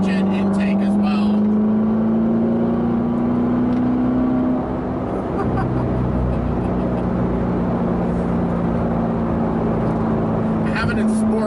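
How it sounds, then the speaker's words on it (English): A 2016 Corvette C7 Z51 with an X pipe that deletes the secondary cats, plus an aftermarket intake, drones steadily from inside the cabin as it cruises, its pitch rising slightly and then holding. "Love the sound of this car. Have the X pipe, which deletes the secondary cats"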